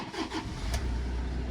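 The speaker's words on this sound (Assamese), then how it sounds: "ষ্টাৰ্ট হৈ গ'ল গাড়ী।" A Toyota Innova car engine cranks briefly and catches, settling into a steady low idle rumble, heard close up with no talking.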